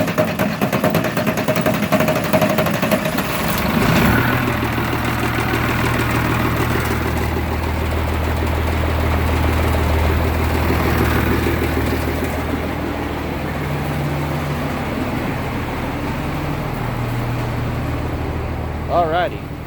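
An M35A2 military truck diesel engine running with a steady, loud low rumble at idle that fluctuates slightly throughout, while a person talks over it.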